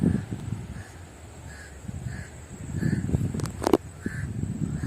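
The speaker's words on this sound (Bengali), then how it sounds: "কাক ডাকছে রে বাপি?" Crow cawing near a river, several short harsh caws repeating at a steady interval over a low rumble of outdoor background noise, fairly distant and moderate in level.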